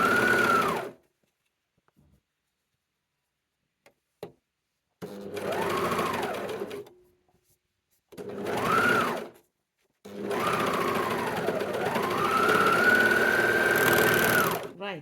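A sewing machine stitches upcycled thrifted scarves in steady whirring bursts, four runs of varying length separated by pauses, loud and close with no talk.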